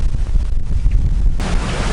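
A strong wind buffets the microphone on a beach at the eastern side of the tip of Cape York, a loud, rumbling roar that grows harsher near the end, with no talking.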